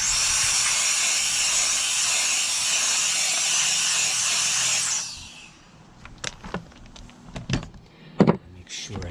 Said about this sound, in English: that's where an air compressor in a higher velocity can kind of help